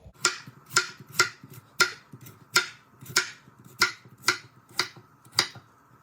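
A knife cubing sweet potatoes for a chickpea and sweet potato curry, about a dozen crisp chops landing on a cutting board at a steady, unhurried rhythm, close and clear with a faint background hum and no talk.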